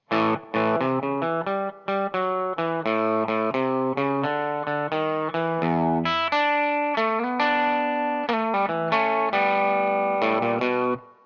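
Electric guitar plays a distorted blues line, a busy run of picked notes and bends with a slight chorus shimmer, steady and up close.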